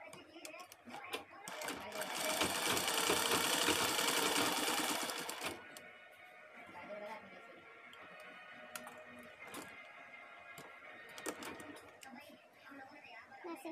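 Electric sewing machine stitching up holes in a mosquito net, a loud rapid mechanical whirring run for a few seconds that stops, then quieter clicks and handling, with a person talking over parts.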